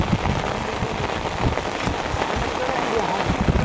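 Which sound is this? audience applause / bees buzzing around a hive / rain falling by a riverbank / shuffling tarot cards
rain falling by a riverbank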